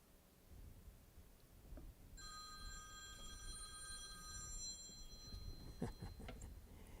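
A telephone rings during a university lecture on queueing systems theory, a trilling electronic ring lasting a couple of seconds against quiet room noise, followed by a few faint knocks and shuffles.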